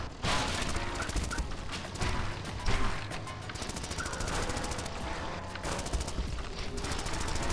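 Rapid machine gun fire in the zombie-smashing driving game Zombie Driver, a dense rattling burst of shots mixed with crashes and impacts, steady and fairly loud throughout, with no voices.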